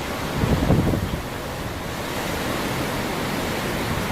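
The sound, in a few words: waves on a retention pond before a hurricane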